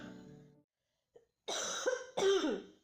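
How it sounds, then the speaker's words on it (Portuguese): A woman coughs indoors, a few harsh, close coughs in two bursts separated by brief silence, with a throaty rasp at the end. "Desculpa a tosse, não vai ter nem como eu cortar."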